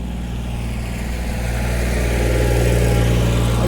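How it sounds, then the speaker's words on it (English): A tractor drives along a city street near the waterfront in Halifax, a steady low engine rumble that grows slightly louder as it nears, with no talk over it. "the guy's coming through with a tractor"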